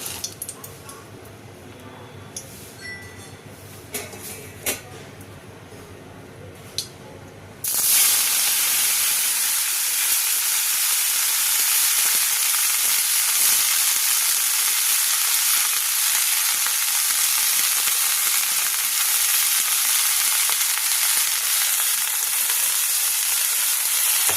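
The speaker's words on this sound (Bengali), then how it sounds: "ঘিটা গলেও গেছে, ঘিটা গরমও হয়ে গেছে। এবার আমি শাকটা দিয়ে দেবো।" Leafy greens go into hot melted ghee. After several seconds of quiet with faint small noises, a sudden loud, dense sizzle and hiss takes over and holds steady for the rest of the clip.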